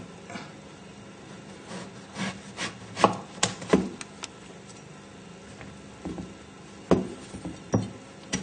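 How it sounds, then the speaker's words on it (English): A knife cuts the flesh of a mango around the stone, giving quiet scattered scraping and slicing sounds with a few sharper taps on a cutting board, all close and faint. "I'm just cutting around the stone."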